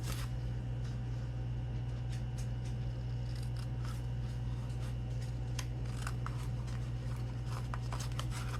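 Scissors snip through paper for a junk journal, cutting up from the bottom edge to a score line; the quiet crisp cuts come in a series over a steady background hum.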